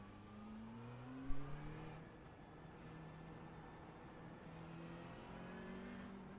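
A McLaren 720S GT3 race car in a video game revs repeatedly during heavy brake stands, its engine note rising and falling in long sustained pulls, with a brief thump early on.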